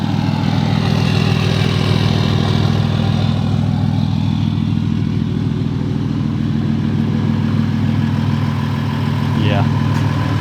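A 2019 Ford F-150 with a 3.0 Powerstroke diesel, deleted, tuned and fitted with a 4-inch straight pipe, holds a deep, steady idle drone that stays loud and even for the whole stretch.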